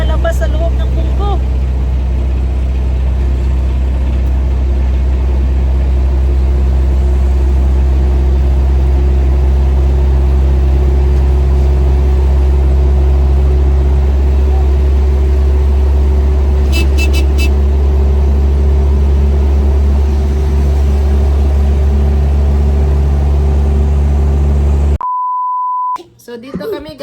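A car engine idles with a holed muffler underneath, its exhaust escaping inside the bumper: a loud, continuous low rumble holds steady for about twenty-five seconds, with a few brief beeps, before cutting off abruptly.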